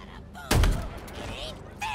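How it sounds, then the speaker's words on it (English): A single loud shotgun blast from Halo Infinite, a sharp close report with a brief ringing tail, followed by quieter game effects and another burst near the end. "I'll gladly take the shotgun."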